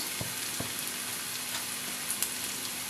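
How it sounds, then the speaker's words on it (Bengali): Ground spices fry in a pan for a mushroom curry, a soft, even sizzle with a few faint taps, quiet and steady throughout. "একটু ভেজে নেব"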